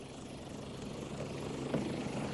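Over Majorca near Valdemosa, a helicopter's engine and rotor give off a steady, fairly loud broadband roar that runs unbroken throughout, with no one speaking.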